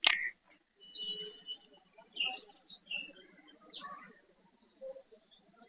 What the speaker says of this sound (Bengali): এখানে পুরো গাছ ভর্তি বাদুড়। আর বাদুড় গুলো কিচিরমিচির কিচিরমিচির করছে।